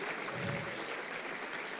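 A church congregation claps in praise during a sermon, a brief, dense burst of many hands heard at moderate distance.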